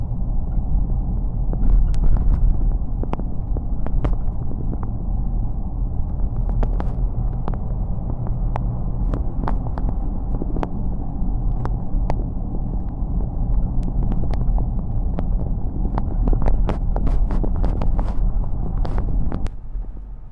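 A little old Nissan truck with a 6-cylinder engine runs steadily with a loud, deep, constant rumble, close by, under some wind buffeting and scattered clicks, with no talk.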